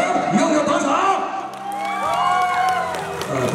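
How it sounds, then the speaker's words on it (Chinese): Wedding guests, the friends and family in the crowd at a wedding reception, clap, cheer and whoop together, a dense, loud burst of crowd noise with shouting voices mixed in throughout. "掌声又有多少？"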